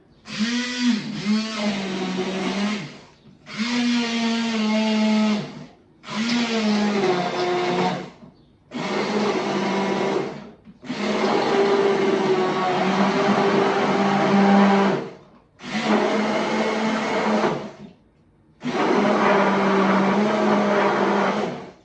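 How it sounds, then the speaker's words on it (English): A blender making a frozen smoothie whirs loudly in repeated bursts, starting and stopping about eight times with short silent gaps, its motor pitch shifting as contents churn. "We're going to blend all the ingredients with our blender."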